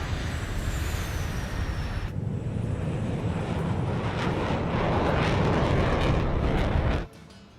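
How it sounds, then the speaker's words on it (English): Jet aircraft engines roar steadily in Ace Combat 7 as a flight forms up, a loud continuous broadband rush that swells slightly before cutting off near the end. "All right, all aircraft, form up on Trigger, nice and tight"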